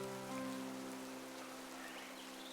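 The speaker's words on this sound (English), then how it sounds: "It just started raining." Rain falling in a Pokémon video game, a steady hissing downpour that holds at constant level, with sustained tonal game music humming underneath.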